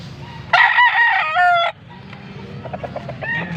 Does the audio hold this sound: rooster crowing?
yes